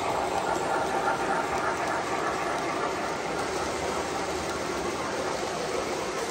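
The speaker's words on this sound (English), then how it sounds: "There goes the old triplex." A steady mechanical clatter and rumble of a passing triplex steam locomotive, with continuous rhythmic ticking like running gear, moderately loud and unbroken.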